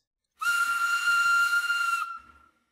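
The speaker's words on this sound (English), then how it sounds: "The fusible plug body is often shaped so that a whistling noise is created as the system" A fusible plug venting boiler pressure gives a single sharp, high, steady whistle with a hissy edge, lasting under two seconds before cutting off, loud and close.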